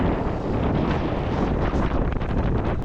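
Strong wind roars over the microphone while riding a motorbike in Da Nang, Vietnam, a loud, continuous buffeting rush with no break through the whole stretch.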